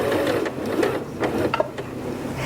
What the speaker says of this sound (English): Now let's stitch a little straight stitch one more time. So I'm going to stitch about 1 inch.